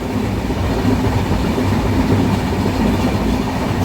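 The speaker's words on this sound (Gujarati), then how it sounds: "હા તો આ ટ્રેનની જર્ની છે ભાઈ અમારી." A moving train rumbles steadily on the rails between Vadodara and Ratnagiri, a loud continuous roar with faint rhythmic clatter, no voices.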